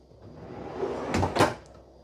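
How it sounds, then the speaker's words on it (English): A soft-close drawer in the kitchen of a 2024 Forest River Cedar Creek 3325BH fifth-wheel RV glides shut, with a quiet slide and then two soft muffled thumps as it settles, close and alone. "Soft close drawer guides."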